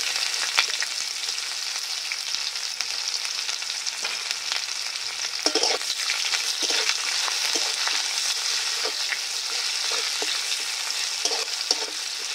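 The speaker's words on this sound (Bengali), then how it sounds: "পেঁয়াজটা আমি একটু লাল লাল করে ভালো করে ভেজে নেব।" Chopped onions and a bay leaf fry in oil for a bitter gourd lentil dal, producing a dense, constant sizzle broken by occasional spatula scrapes and taps, near and steady throughout, with no speech.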